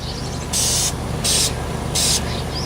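Three bursts of an aerosol spray can, each about a third of a second long, coat a plastic bottle in yellow paint. Each burst is a loud, close hiss, with short pauses of quieter room noise between them.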